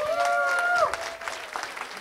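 Audience clapping at a school board candidate forum, a light scattered patter of hands under a brief sustained tone at the start, tapering to sparse claps.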